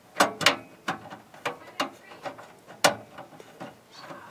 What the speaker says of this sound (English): And then you take those two screws, the Torx screws, and you screw them in.